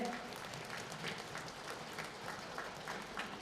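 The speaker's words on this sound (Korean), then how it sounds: "함께 해주신 리더분들 박수 부탁드립니다." An audience at a business event applauds the leaders with sustained, even clapping, soft and somewhat distant, holding steady throughout.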